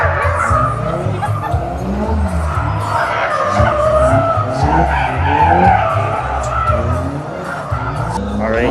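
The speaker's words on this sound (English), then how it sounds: "Oh, they're all GTRs. Didn't even notice that. That's pretty cool. Oh, they started drifting." Several Nissan GT-R cars drift close by, their tires skidding and squealing over revving engines in a steady, continuous wash of rubber noise, with someone talking faintly underneath.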